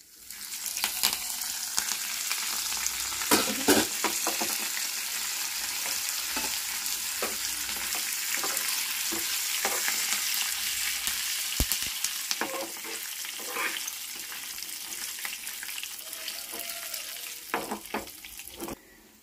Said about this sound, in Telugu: ఇంగు వేస్తున్నానండి, కరివేపాకు.